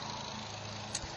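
A steady low tractor engine drone from a tractor plowing a nearby horse pasture rumbles without pause for a brief moment.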